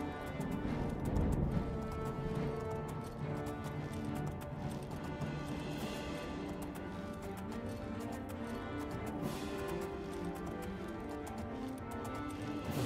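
Rhythmic clip-clop of hooves from a horse in the video game The Elder Scrolls Oblivion at a steady pace over a continuous background hum, with a soft whinny-like note partway through.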